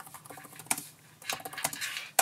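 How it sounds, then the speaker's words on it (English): Fingers type on the keyboard of a Huawei Matebook 16 laptop in soft, quiet, irregular clicks and taps, close by and alone, with small bursts of keystrokes. "Very similar amount of travel on the keys, and volume 2 when typing."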